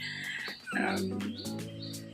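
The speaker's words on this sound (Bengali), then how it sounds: "কাকটা এই দেখো কাকা করছে" A crow caws outside a house, giving a few harsh, close calls in quick succession over faint background noise.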